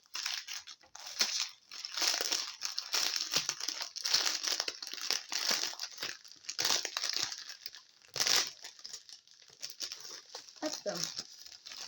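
A crinkly plastic package of diamond painting supplies is pulled open close by, giving a run of sharp crackling and rustling bursts of uneven rhythm, with a brief spoken word between them.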